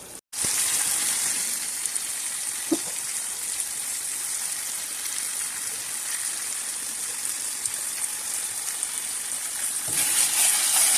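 Shrimp karahi with tomatoes and spices frying in a pan, a steady close sizzle with a watery hiss, a few faint clicks and a brief gap at the start, no talk.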